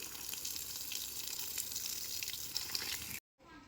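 Water sprays from a hose onto wilted plants on dry ground hardened after four days without water, a steady close hiss that cuts off abruptly near the end.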